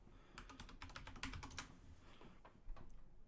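Fast, irregular key clicks from a computer keyboard being typed on at close range, quiet, with no talk.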